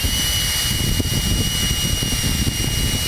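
A turbo fan runs at full maximum speed, a steady, loud, dense rushing whoosh with a constant whine, continuous and close with no pauses or talk.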